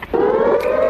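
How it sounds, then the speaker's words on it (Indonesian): A warning siren sounds a loud, steady, sustained wailing tone, heard alone for just under a second. "Ini adalah suara sirene tanda bahaya."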